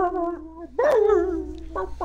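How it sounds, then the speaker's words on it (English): A dog in Halo Infinite lets out a close, loud bark that stretches into a whining, howl-like yelp, with a shorter yip at the end. "That's the sound of dog makes."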